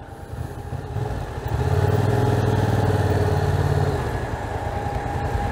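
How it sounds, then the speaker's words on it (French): Motorcycle engine at a licence test, close and steady, rising from idle to a stronger mid-pitched drone for a couple of seconds before easing back to a lower hum. "je fais demi-tour et je fais le freinage d'urgence"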